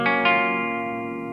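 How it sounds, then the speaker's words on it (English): A clean electric guitar with every effect switched off strikes two quick chords that ring out loud and sustained, slowly fading with no talking. "this is like the guitar with no effects on it whatsoever"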